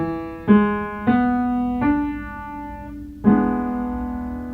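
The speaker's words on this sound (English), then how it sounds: "So if we start out with a German augmented sixth, it sounds like this." Four sustained piano chords, starting with a German augmented sixth, struck one after another, each ringing out and slowly decaying before the next, with no voices.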